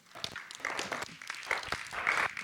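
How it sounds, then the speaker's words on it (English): An audience at an educators' professional development day applauds a volunteer coming up, a close, lively patter of many hands with sharp individual claps rising and falling slightly over its short length. "round of applause, everybody"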